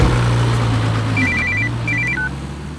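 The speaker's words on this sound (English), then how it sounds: "why don't you pick the phone fast" A telephone bell rings in two short trilling bursts over a steady low engine-like hum, loud and close, with no talking.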